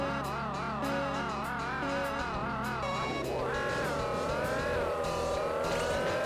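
A panda car in the Choro Q racing game revs with a warbling, oscillating engine whine that drops and climbs again, steady and fairly loud amid game sounds.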